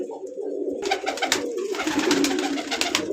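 Pigeons coo in a low, throaty rolling murmur, with several birds layered close by and fluttering or scuffing noises over them, at a pigeon breeder's loft keeping various pigeon breeds.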